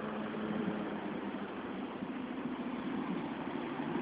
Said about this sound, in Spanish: Vean ustedes, todos esos carros van para Cumaná.